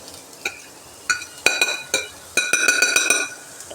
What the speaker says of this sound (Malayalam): ഇത് തിരിച്ചും മറിച്ചിട്ട് റോസ്റ്റ് ചെയ്യും